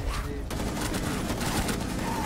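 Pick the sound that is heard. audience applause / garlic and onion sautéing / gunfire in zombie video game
gunfire in zombie video game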